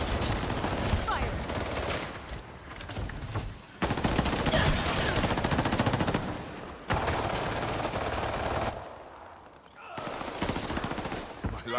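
Dense gunfire in the Highguard video game, loud sustained machine-gun bursts and rapid shots in long stretches broken by brief pauses, with a voice speaking in places.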